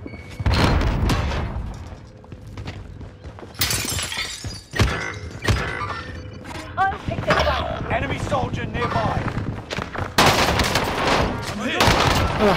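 Call of Duty gunfire rattles through a chaotic match, with sharp rifle shots, bursts of automatic fire, thuds and breaking-glass crashes coming loud and close, alongside game voice lines and a player speaking.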